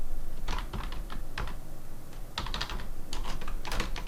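Keys clatter on a computer keyboard in steady bursts of quick taps with short pauses, close and fairly quiet, as text is entered into an Excel 2016 formula box.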